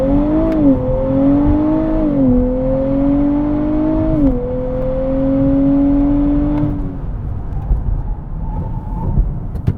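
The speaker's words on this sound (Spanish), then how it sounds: "Dos paddles a fondo, acelerador, launch control y vamos." A 2023 Nissan Z pulls away hard on launch control, its engine note climbing steadily through several stepped gear changes at close range before cutting off, leaving road and wind noise.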